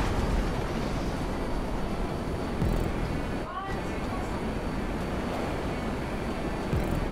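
Ultralight aircraft engine in GTA V, a steady, droning buzz that holds level for the whole stretch, with a brief dip midway and wind-like rushing noise mixed in.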